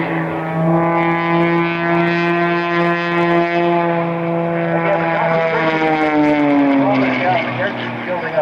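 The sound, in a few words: aerobatic display aircraft engine at airshow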